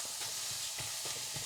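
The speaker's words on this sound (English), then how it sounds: "we're going to brown our ground beef" Ground beef browning in a hot skillet, a quiet, steady sizzle with soft, rhythmic scraping as the meat is chopped and stirred.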